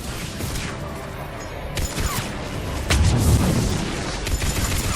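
Missiles launching and exploding in the Mass Effect 3 video game, with whooshing launches and booming blasts that build to a heavier, louder barrage over a dense battle din.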